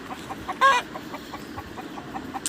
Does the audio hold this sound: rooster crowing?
yes